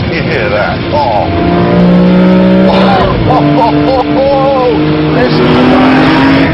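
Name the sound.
BMW M3 E46 CSL engine noise at speed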